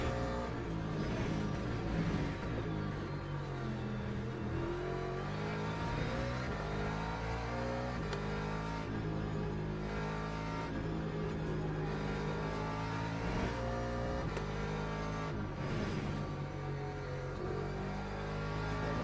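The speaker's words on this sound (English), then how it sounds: "Porsches are quick through this part of the track" A Porsche race car engine in a racing game holds a steady drone on the Laguna track, with the pitch rising and falling through gear changes and throttle lifts. The sound is continuous and moderately loud, with no talk.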